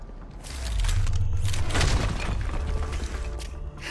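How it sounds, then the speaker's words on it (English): A wall crumbles apart in Deus Ex, giving a dense rumbling crash of breaking debris with grinding, creaking and scattered clatter that holds steady for several seconds at close range. "I do like when you destroy a wall for no reason"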